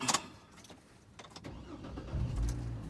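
A 2004 GMC Envoy SLT 4WD starts up: a few soft clicks and rustles from inside the cab, then the engine cranks and catches into a low, rumbling idle, heard close and at moderate volume.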